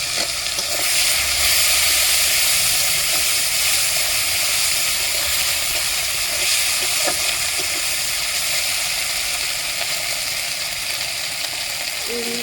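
Potato and egg curry frying in a pan with ginger garlic paste, a steady loud sizzle and hiss that runs continuously without pause, with a faint stirring clink near the end.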